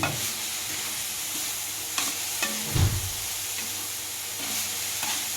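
Grated coconut being fried and stirred in a pan for an unnakkaya filling, a soft continuous sizzle under repeated scraping strokes of a spoon against the pan, close up with no talking.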